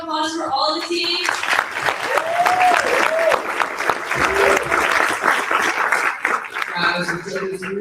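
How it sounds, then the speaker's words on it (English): Audience at an entrepreneur camp pitch event gives a sustained round of applause for all the teams, loud dense clapping with whoops and cheers, voices heard briefly at the start and end. "Can we have one last round of applause for all the teams?"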